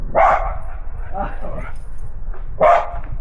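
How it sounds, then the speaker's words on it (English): An unleashed dog barks twice, loud and close, with a pause between barks and some faint sounds in between, over steady background noise. "That's an aggravating dog, and it isn't even on a leash."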